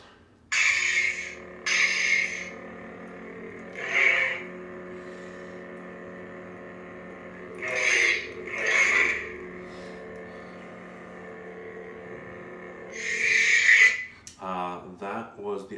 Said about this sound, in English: That was the episode 1 sound font on there, which is what Darth Maul's actually sounds like.